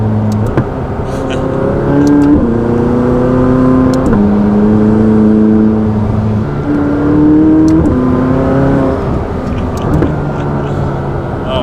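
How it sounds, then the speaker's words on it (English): A 2019 McLaren 600LT accelerating hard, its engine note climbing in repeated steps with each gear change, sharp exhaust pops and crackles marking the shifts, loud and close throughout. "you're just changing gears, just popping popcorn"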